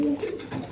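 A pair of Chinese Owl pigeons, a crested breed, give a short, soft, low coo up close.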